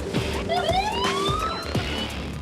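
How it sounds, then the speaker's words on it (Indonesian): A warning siren on a logistics robot in a BYD factory sounds as rising, wavering electronic tones over a steady low industrial rumble, loud and continuous throughout. "Setiap robot sudah dilengkapi dengan sensor serta suara sirine untuk menghindari kecelakaan antar robot maupun"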